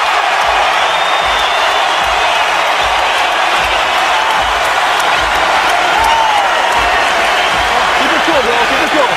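A boxing arena crowd in Omaha roars and applauds as the fighter brings them out of their seats, a steady, dense wall of cheering and clapping sustained throughout.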